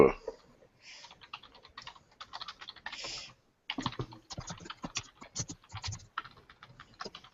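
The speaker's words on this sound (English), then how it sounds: "Why am I typing?" Close computer keyboard typing comes in irregular clattering runs broken by short pauses, with some scratchy handling noise between the keystrokes.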